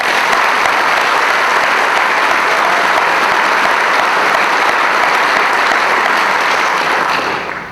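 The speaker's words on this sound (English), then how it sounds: "So how about a round of applause?" Sustained, loud applause from an audience at a military acquisition excellence awards ceremony, a dense wash of clapping holding steady for several seconds before tapering slightly at the end, with no talking over it.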